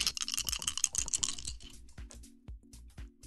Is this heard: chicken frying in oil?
no